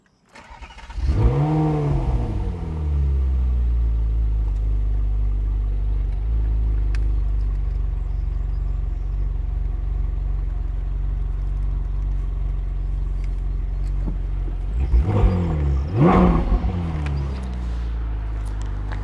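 A supercar with its exhaust valves open fires up with a loud, sharp bark, settles into a steady deep idle, then gives a couple of quick throttle blips near the end before dropping back to idle.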